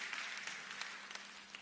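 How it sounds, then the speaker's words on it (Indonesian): Applause from a church congregation at a Saturday night service, a steady wash of many hands with scattered louder claps standing out, fairly distant and sustained. "Boleh kasih tepuk tangan yang terbaik bagi Allah kita."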